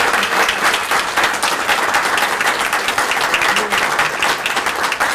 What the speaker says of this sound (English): Give a round of applause for all 6 of our candidates today, guys.